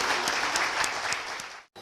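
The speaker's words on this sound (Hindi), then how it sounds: "जोरदार तालियों से स्वागत कीजिए।" An audience claps to welcome a speaker at a business event, with steady full applause that cuts off abruptly near the end.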